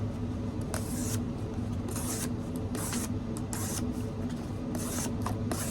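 An M390 steel knife slices through double-thickness cardboard in a cut test, making repeated rasping, scraping strokes about every half second over a steady hum.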